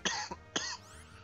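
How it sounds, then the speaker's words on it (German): A person coughs twice in quick succession, close and fairly loud, with a small catch of breath between the two bursts. "Jetzt huste ich mir schon aus dem Leibe."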